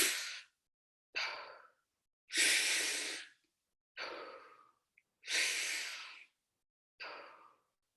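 Freediving recovery breathing after a breath-hold: six forceful, close breaths with active inhales, alternating longer and shorter bursts of rushing air separated by brief silent pauses.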